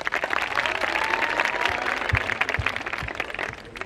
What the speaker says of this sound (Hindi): एक जोरदार तालियां हमारे फर्स्ट ईयर के स्टूडेंट्स के लिए।